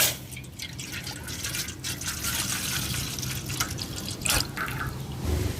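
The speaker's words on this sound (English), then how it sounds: "So I'll go ahead and place our saucepan right there, and then pour the milk" Milk poured from above into a saucepan for a white sauce, a wet splashing stream with scattered drips and splatters, close and fairly loud throughout.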